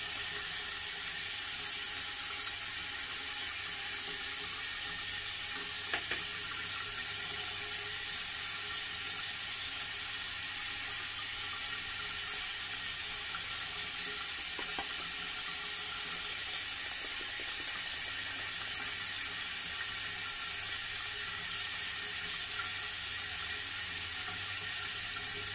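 Tap water runs steadily into a sink as a shaving brush is rinsed during a wet shave, a continuous close hiss with faint knocks partway through and no talking.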